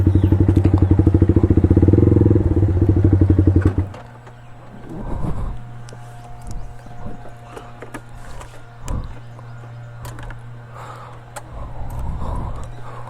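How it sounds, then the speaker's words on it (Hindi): A motorcycle idles loudly with a steady chugging engine, then cuts off as it is parked, followed by scattered clatter, thumps and handling noises nearby with faint background hum. "यहाँ पे लगा देते हैं बाइक।"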